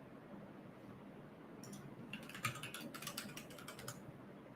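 Typing a password on a computer keyboard: a quick burst of light, fairly close key clicks in an irregular rhythm, starting after a quiet moment and fading out again.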